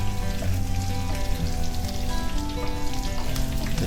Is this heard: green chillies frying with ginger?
yes